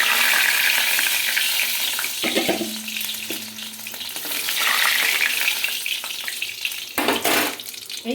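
Potatoes frying in hot oil in a home kitchen, a steady broadband sizzle with occasional stirring scrapes and brief louder bursts, close and continuous with no talking.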